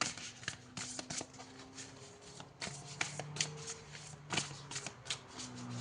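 Oracle cards are shuffled by hand for a reading, with crisp riffling flutters and soft slaps of the deck in quick irregular bursts, close up. A faint steady tone sits underneath, and no one speaks.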